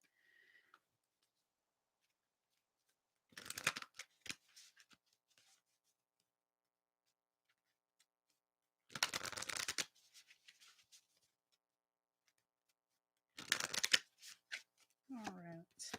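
Tarot cards being shuffled and pulled in three short separate bursts of close riffling, with quiet pauses between them and a brief voice near the end.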